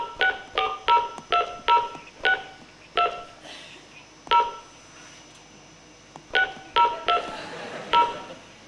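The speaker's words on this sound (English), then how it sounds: "Let's see if it works, shall we? I'm going to dial." Touch-tone telephone dialing on a TV talk show, a series of short electronic keypad beeps in quick runs with brief pauses, clear and close with no talk over them.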